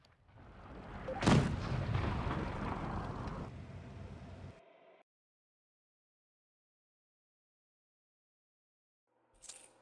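A single heavy tank cannon blast in the World of Tanks Blitz video game, a deep booming shot with a rumbling tail lasting a few seconds, then silence and a brief faint game sound at the end.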